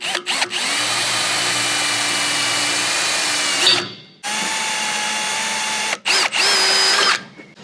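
Power drill fitted with an 8.5mm bit boring holes for awning mount bolts on an Outback Tourer, a loud close whine in two long runs with a short pause and brief stop-start bursts.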